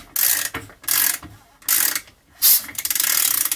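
Socket ratchet turning the crankshaft of a Yamaha IT490 two-stroke engine, heard as four bursts of rapid close clicking with brief pauses between them, the last burst running longer.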